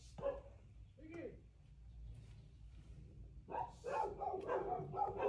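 Many dogs on a large hacienda in the rural Philippines bark nearby: a couple of isolated yaps early on, then a loud, dense chorus of overlapping barks and yips in the last couple of seconds.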